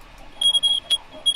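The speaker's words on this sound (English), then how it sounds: "probably right about here is before the alarm goes off" A smoke detector alarm going off with loud, piercing high beeps in short pulses, close and alone.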